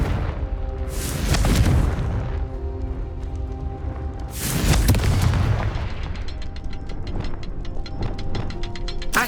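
In the Hogwarts Legacy video game, a Confringo blast spell goes off as two deep booming explosions that rumble and fade, followed by rapid ticking crackles.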